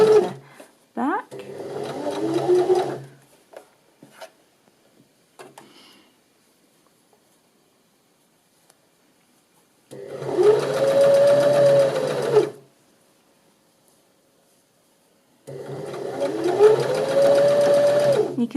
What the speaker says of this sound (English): that's what you're going to do when you're sewing around a curve on an overlocker.